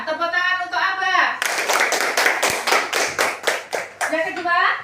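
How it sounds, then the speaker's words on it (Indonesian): Schoolchildren in an elementary classroom clap together in a quick, rhythmic series of about eight to ten sharp claps, set between an adult teacher's spoken lines at the start and end. "Tepuk tangan untuk Abah."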